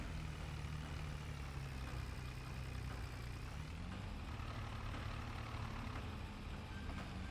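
A tractor engine in Farming Simulator 22 drones steadily at a low, heavy pitch throughout, loud and continuous, with no one talking.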